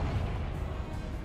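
A Confringo spell explosion in Hogwarts Legacy, a short burst of dense low rumbling noise that holds steady through its brief length, loud and close with no voice.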